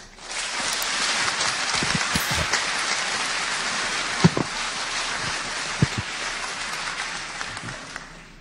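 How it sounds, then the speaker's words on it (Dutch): Lecture audience applauding a speaker's introduction, dense even clapping that swells quickly and holds steady for several seconds, with a few sharper individual claps standing out. "Een hartelijk applaus graag."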